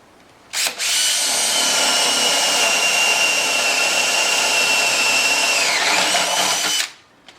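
A power drill drilling into a wine barrel whirs loudly and steadily for several seconds, starting abruptly and winding down at the end, its pitch dipping slightly under load.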